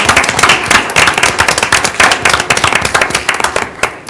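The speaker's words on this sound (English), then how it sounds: "if we can give Mayor Burke in his absence a round of applause" A small city council chamber breaks into brisk, close clapping from a modest group, honoring an absent mayor, rhythmic and uneven for a few seconds.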